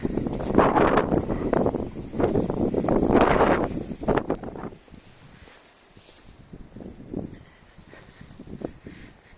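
Strong wind in Frunze Park in Yevpatoria in November, buffeting loudly in heavy gusts for the first few seconds before easing to a lighter, intermittent rush.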